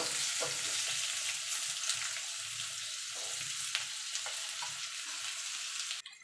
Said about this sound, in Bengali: দেখুন বন্ধুরা আলু পেঁপেটা ভাজা হয়ে গেছে